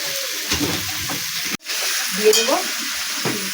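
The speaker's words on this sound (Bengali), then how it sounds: "আলুটাকে আমার ভালো করে ভেজে নিতে হবে।" Potatoes and onions fry in a pan with an energetic close sizzle and scraping stirs, broken by a brief silent gap midway before the frying resumes.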